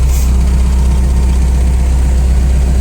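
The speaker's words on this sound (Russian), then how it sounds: "Трактор вот почти прогревается уже потихонечку" A Mitsubishi MT367 tractor engine, with 624 engine hours, idles while warming up, giving a loud, steady low rumble that stays even throughout, with no talk over it.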